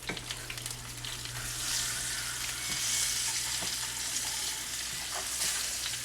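Mackerel fries in oil in a pan with a steady, close hiss and crackle, faint pops scattered throughout and no talking.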